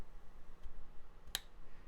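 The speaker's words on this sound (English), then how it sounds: "And when we push it in, you can hear that little click." A single sharp click as a power cable connector seats into an MSI RTX 4080 Suprim X graphics card, brief and close against a quiet background.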